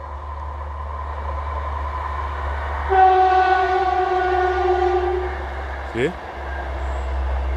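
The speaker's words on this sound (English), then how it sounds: "One more train coming now." A train passes on a railway line during an evening walk, its horn sounding loudly in sustained tonal blasts over a steady low rumble, with a brief sharp tone near the end and a voice speaking briefly.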